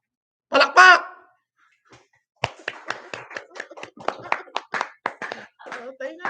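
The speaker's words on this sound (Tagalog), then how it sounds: "Palakpak!" A brief shouted voice comes first, then a steady run of crisp, rhythmic hand claps that keeps going at an even pace, close and fairly loud.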